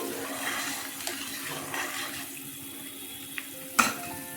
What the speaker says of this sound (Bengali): ঝোলটা ফুটে গেছে দেখুন